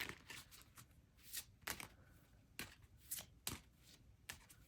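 Tarot cards are shuffled by hand in a series of quick, crisp riffling bursts with short pauses between, close and fairly quiet.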